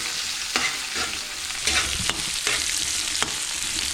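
Squid adobo being stirred in a sizzling pan, a steady frying hiss broken by several scraping strokes of the utensil, close and loud with no voices.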